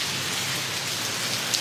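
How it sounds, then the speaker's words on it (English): Heavy rain pours down steadily at an outdoor encampment on Barrington Street, a dense, even hiss of drops hitting surfaces that holds at one level throughout with no voices. "We knew this rain was in the forecast."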